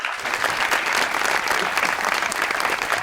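A studio audience at a Pakistani television talk show claps steadily for a guest, a dense, even burst of applause lasting a few seconds.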